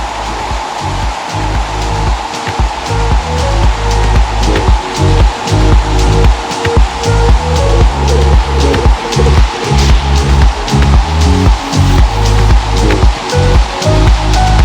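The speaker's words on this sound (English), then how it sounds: "On both sides of the trail we have waterfalls." Steady, loud rush of waterfalls on both sides of a short downhill trail at Falls Creek, a dense continuous roar of falling water with no voices.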